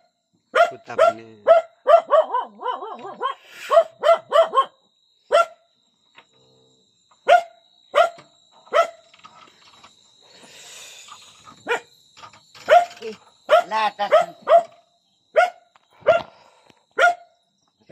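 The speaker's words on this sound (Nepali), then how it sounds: "अघि भुग्ने कुत्ता यही हो" A village dog barks in repeated bursts, loud and close, with quick clusters of sharp barks separated by short pauses and a brief stretch of quieter background noise in the middle.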